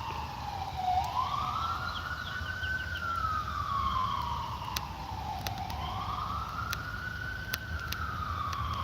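Emergency vehicle sirens wail in rising and falling sweeps, a steady pitched tone heard at moderate distance over a low background hum.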